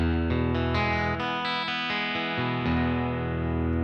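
Electric guitar on the bridge pickup through a Dream '65 amp, several quick strummed chords building into a sustained, bright, slightly overdriven ring, close and loud with no voice.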